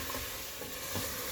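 Chopped tomatoes are stirred by hand into spices frying in a pot for palak gosht, giving a soft scraping sound over a steady low sizzle, up close with no talking.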